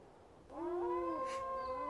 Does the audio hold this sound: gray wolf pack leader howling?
yes